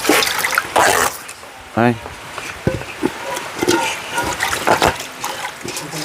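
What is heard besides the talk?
washing with running water while cooking suman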